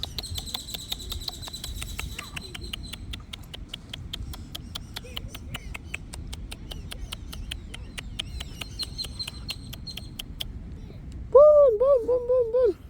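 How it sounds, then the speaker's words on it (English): Birds chirp at a pond during turtle feeding, with faint high chirps over steady low background noise and a louder, wavering call rising near the end. "These birds are jealous"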